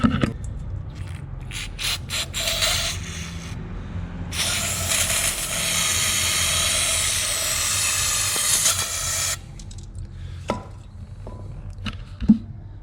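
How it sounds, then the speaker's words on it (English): Aerosol brake cleaner hisses in long, steady bursts through the intake pickup of a Torana engine swapped into a VN Commodore, a sustained spray of about five seconds preceded and followed by shorter squirts and faint clicks. "I'll just put a bit of brake clean through it"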